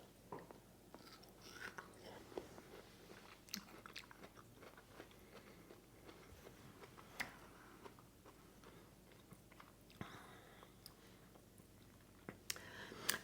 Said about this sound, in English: I'm just going to take a bite to see if I like this tomato